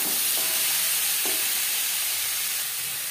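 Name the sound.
beans frying and being stirred in a pan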